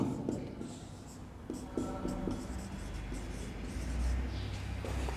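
Writing on a board during an English class, with short scratchy strokes in quick clusters over a low room hum.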